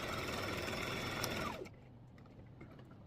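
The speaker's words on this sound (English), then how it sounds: "So we're just going to stitch a straight line." Sewing machine stitching a straight seam on a small fabric organizer, running loud and continuous for about a second and a half before stopping, leaving a quiet room with faint clicks.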